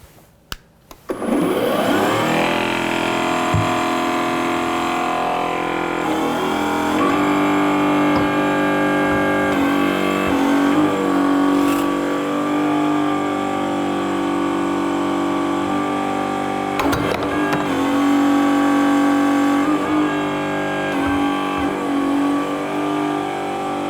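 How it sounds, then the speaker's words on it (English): An Enerpac EDCH decommissioning cutter's hydraulic pump starts with a few clicks, then runs as a steady, loud motor whine and hum, with brief clunks as the cutter bites through the workpiece. "we turn the pump on, and I'll go ahead and make our first cuts"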